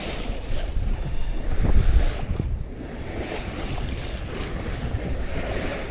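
A sailboat beats to windward out of a bay on a grey, foggy Welsh day, with a constant rush of wind and waves, heavy wind buffeting on the microphone, and a louder splash of water against the hull partway through.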